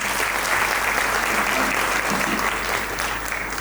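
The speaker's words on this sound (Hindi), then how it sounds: "इनके लिए तालियां हो जाए" Steady applause from a crowd gathered at a Bhagavat Katha religious discourse in Nashik, dense and even throughout, with the clapping fading slightly toward the end.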